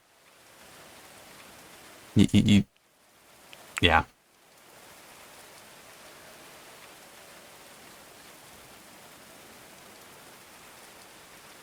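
Steady hiss of rain in the video game Going Medieval fills the background, interrupted by a couple of short spoken remarks before the downpour continues evenly.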